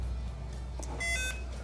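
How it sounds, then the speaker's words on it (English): A short electronic beep from a test meter used on a 1980s Nissan 200SX electrical system, one brief tone about a second in, heard alone over a low hum. "Beep."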